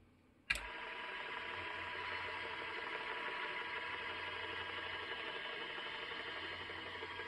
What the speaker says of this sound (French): crash test pour le deuxième moteur